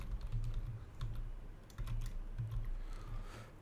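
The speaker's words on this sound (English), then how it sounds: "Then enter the card details, a test card details, a month, CVV, the name of card is Michael." Test card details are typed on a computer keyboard in quick, close bursts of key clicks with short pauses between, over a low steady background hum and no speech.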